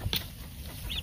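A rooster and hens at a farm during fall harvest give a couple of short, soft clucks a moment apart, faint against quiet background noise.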